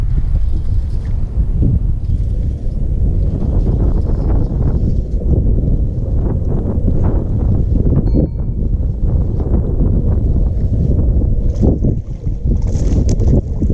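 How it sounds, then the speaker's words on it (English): Strong wind roars across a lake on Guntersville during kayak bass fishing, buffeting the microphone in loud, continuous gusts with low rumbling and no talking. "Boy, the wind's blowing."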